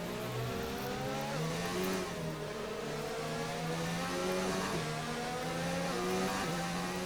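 F1 video game race cars with engines screaming at high revs as Bottas overtakes using DRS, several whining engine tones rising and falling together in a loud, continuous close pass.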